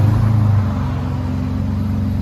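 A 2016 Ford F-150 with a 3.5L EcoBoost V6 and a Borla Pro XS dual exhaust rumbles loud and close, its deep engine note holding steady after a slight early dip, with no talking.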